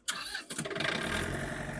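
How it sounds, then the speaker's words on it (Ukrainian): A Mitsubishi MT23 tractor's four-cylinder diesel engine cranks briefly and catches, settling into a steady, close, rattling idle. "Тепер давайте заведемо трактор, нехай він у нас працює."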